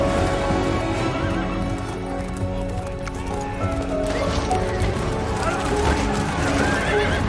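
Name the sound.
horses neighing and galloping in Pirates of the Caribbean film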